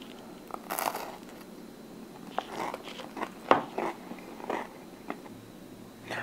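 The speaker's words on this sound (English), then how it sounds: "As you can hear, we have a little bit of crunch on the bottom of that crust" Crunchy bottom crust of a slice of pizza cooked on a Napoleon Prestige Pro 665 gas grill being bitten and chewed up close, a series of sharp crackling crunches spread over several seconds, no talking.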